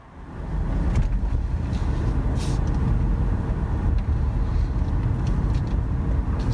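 Car pulling away and driving on, a broad continuous road and engine roar rising quickly after a quiet start and holding steady, with a few faint clicks above.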